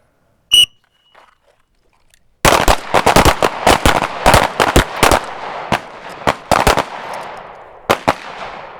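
Pistol rounds are fired at targets on a range: one isolated shot, a pause, then a rapid string of sharp, loud cracks in quick bursts, with a final few spaced shots.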